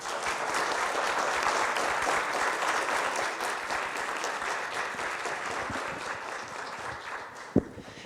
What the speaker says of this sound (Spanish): le brindamos un fuerte aplauso a todos y cada uno de estos grandes ponentes de este foro